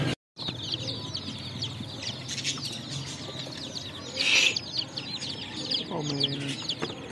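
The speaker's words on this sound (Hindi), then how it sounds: "ये वाले जो देसी चार चूजे है ना हमने करवा लिए हैं" Four desi chicks in a box, chirping and peeping in bursts over a noisy background with some rustling and clucking-like calls.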